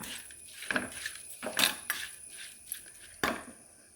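A utensil stirs shell meat roast in a metal pan, giving close, bright clinks and scrapes in uneven bursts, with sharp strikes around a third of the way in, near the middle and toward the end, and no talking.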